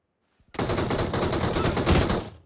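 Automatic weapon fire in the mobile battle royale game BGMI erupts after a moment of silence, a rapid, loud burst of shots lasting about two seconds with no talk.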